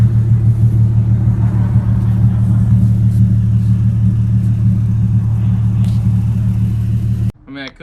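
Infiniti G37 engine running after being started, a loud steady low rumble held close for about seven seconds before cutting off abruptly.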